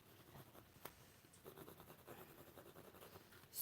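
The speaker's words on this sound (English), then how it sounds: "Does anybody else love the sound of pencil on canvas?" A pencil scratches and rubs across canvas, soft close strokes in short irregular bursts, quiet and unaccompanied by speech.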